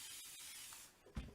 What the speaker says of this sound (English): Just spray this area a little bit.